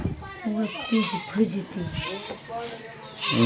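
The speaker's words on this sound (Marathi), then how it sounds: "शेळी कुठं आहे कोणाची ओरडते काय माहिती" A goat bleats a few times at a household, partly buried under nearby talking voices.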